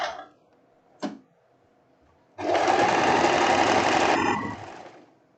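A sewing machine stitches the front of a short printed dress, with a couple of brief taps and then a loud, steady whirring run of about two seconds that slows and stops close by.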